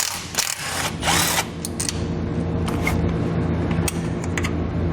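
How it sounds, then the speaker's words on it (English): A hand ratchet clicks rapidly and loudly up close while backing out a 10mm bolt from a bracket during an air helper spring install, with quick bursts of clicks separated by short pauses. "remove our bracket by taking out this 10mm bolt"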